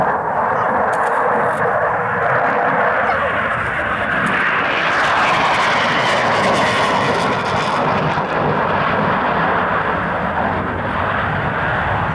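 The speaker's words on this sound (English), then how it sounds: "74 Squadron then continued to fly F4Js until the spring of last year, when they transferred to this GR2." A GR2 military jet flies at an RAF Coningsby airshow in 1992. Its engine makes a continuous, loud, broadband roar that stays steady the whole time, with no talk over it.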